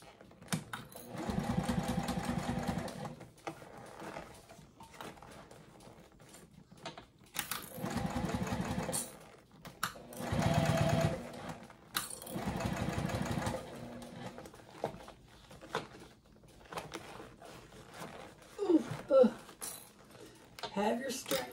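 Sewing machine stitching a circle bag with D-ring connectors and a chain strap, running in several bursts of a few seconds each, with quieter pauses between them and a person talking.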